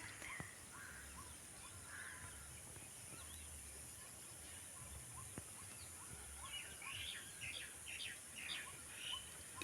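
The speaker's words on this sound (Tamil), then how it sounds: "இந்த குருவிகள் சத்தெல்லாம் ரொம்பவுமே அழகாக இருந்துச்சு" Sparrows chirping in the morning, faint scattered tweets and calls at a distance over a low steady background hum.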